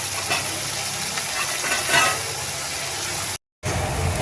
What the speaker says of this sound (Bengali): দেখুন গাজরগুলো সুন্দর আমার ভাজা হয়ে গেছে